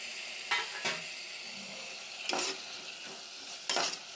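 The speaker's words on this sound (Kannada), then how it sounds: "ಇವಾಗ ಟೊಮೊಟೊ ಮತ್ತು ಕ್ಯಾಪ್ಸಿಕಮ್ ಎರಡನ್ನೂ ಕೂಡ ನಾನು ಜೊತೆಯಲ್ಲೇ ಹಾಕ್ತೀನಿ" Tomato and capsicum stir-fried together in a pan for an easy palav, with intermittent bursts of scraping and sizzling at moderate distance, about three distinct stirring strokes over a steady low frying hiss.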